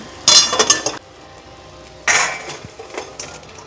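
Utensils clink and scrape against metal cookware as boiled figs are moved into a basket in a home kitchen, two short bursts of close clattering separated by a quieter pause.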